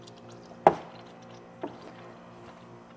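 Air and coolant burp out of a 2016 Chrysler 300's cooling system as it is bled after a thermostat replacement: two quiet, sharp gurgling pops about a second apart over a faint background hum.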